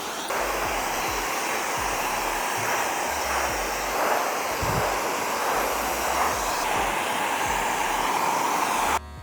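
A blow dryer drying a client's hair at a barber shop runs as a loud, steady whoosh for several seconds without talk, then cuts off abruptly at the end.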